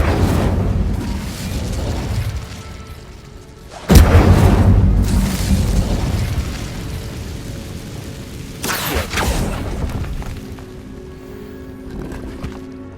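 A loud sudden blast in the Hogwarts Legacy video game as the Incendio fire spell is cast, erupting near 4 seconds and roaring down, with a second burst near 9 seconds over a busy game soundscape.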